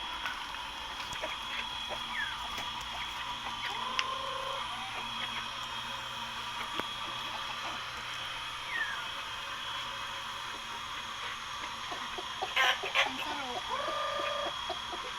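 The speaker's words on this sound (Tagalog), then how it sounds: "tuwing alas 6, nagpapakain siya ng mga alaga niyang manok" Backyard chickens and a rooster cluck faintly during a morning feeding, with scattered short calls over a constant hum, and occasional soft voices nearby.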